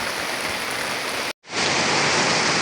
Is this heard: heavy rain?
yes